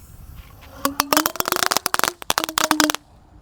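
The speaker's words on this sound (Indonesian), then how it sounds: "selanjutnya yang akan kita nyalakan di sini ada telur jenuh pretek atau mercon kretekan bosku" A string of mercon kretekan firecrackers crackles off in rapid, irregular sharp pops, loud and close, bursting in dense clusters for about two seconds with a short pause midway.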